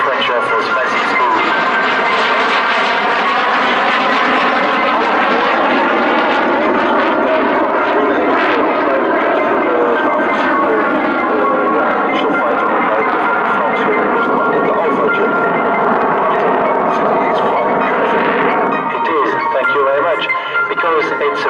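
A French Air Force Alpha Jet flies a solo display at an air show, its loud sustained engine roar rising and falling in pitch as it passes, with people talking over the noise.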